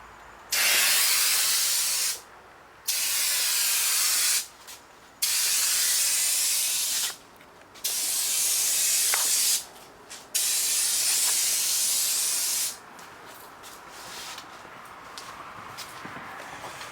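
A modified Mustang hood fitted to an S10 gets spray painted: about five long, loud, close hissing passes separated by brief gaps, followed by quieter, sputtering shorter bursts.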